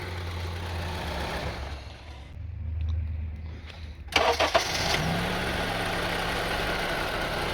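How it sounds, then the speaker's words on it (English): A Honda CR-V engine with a rough idle goes quiet, then cranks and fires up with a few sharp catches before settling into a steady, uneven idle, close to the microphone. "as soon as I turn the engine off and then start again, this rough idling will be starting again"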